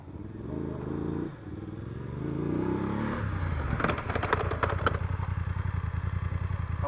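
A BMW motorcycle on an off-road riding course runs through a rear-brake and ABS braking exercise, its engine droning steadily before a rapid pulsing chatter sets in, loud and close with no talking.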